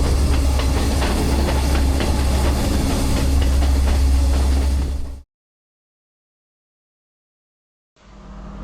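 Podi Menike train rolling along the Kandy to Ella line near Great Western, a loud steady rumble with rhythmic clatter for about five seconds, then a sudden cut to silence before the noise returns briefly.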